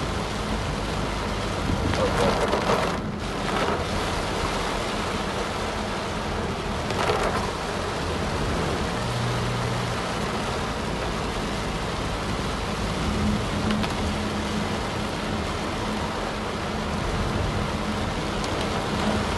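Heavy rain pours down in northern Dominica around the Blenheim area, a steady, dense hiss of falling water lasting throughout, with a few louder surges and possible distant rumbles.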